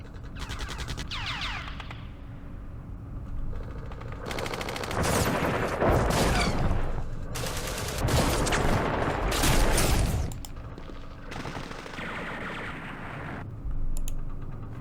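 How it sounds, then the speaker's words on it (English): Machine guns fire in the Vietnam War strategy game Campaign Series Vietnam, coming as several loud bursts of rattling gunfire separated by quieter gaps, with mouse clicks heard between them. "let's try and soften it up first. With all of our machine guns"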